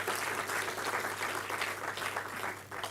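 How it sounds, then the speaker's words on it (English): An audience at an inaugural academic lecture applauds a saxophonist with steady, moderately loud clapping that fills the room evenly, with a low constant hum underneath. "Give him a round of applause again."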